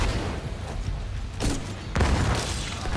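Gunfire in The Division 2 as a player kills an enemy: a couple of sharp shots close together, then another burst, over a low game background.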